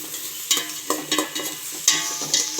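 Egg fried rice is stirred in a hot pan with a spatula, giving repeated scraping strokes over a soft sizzle, close and moderately loud, about half a dozen sharp sweeps with no talking.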